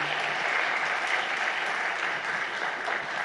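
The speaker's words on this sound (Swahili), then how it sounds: "Naomba tuwapongeze viongozi wetu kwa makofi mengi" Sustained applause from an audience at a book launch at the state house, dense and steady, with many hands clapping evenly throughout.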